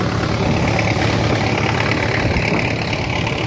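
A tractor engine idling during a chickpea harvest, a loud, close, steady rumbling drone with constant vibration and no break.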